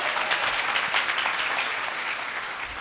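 Listeners at a Bhagavat Katha gathering on Janaki Ghat in Ayodhya clap together in a sustained round of applause, bright and fairly dense, fading slightly toward the end.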